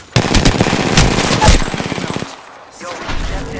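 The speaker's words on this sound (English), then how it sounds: "They're firing on me." Rapid automatic gunfire rattles loudly and close in the Apex Legends arena mode, a sustained burst lasting about two seconds before a dip and quieter follow-up noise.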